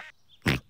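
A single brief quack from a cartoon duck in a Peppa Pig episode, close and clear after a moment of quiet.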